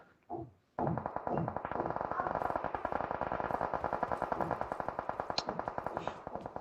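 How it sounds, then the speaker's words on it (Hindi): Rapid automatic gunfire in the BGMI battle-royale game, a long continuous burst of evenly spaced shots after one short opening blast, loud and close with slight echo. "मैं गोली चला रही"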